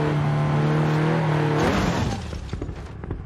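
A Porsche 930 Turbo in the BeamNG.drive driving game, its engine revving in a steady high whine before dropping off into rumbling, tire noise and bumps near the end.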